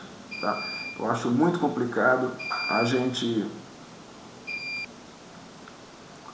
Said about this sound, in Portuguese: é que tem um alarme que fica aqui nesse quarto, ele tocou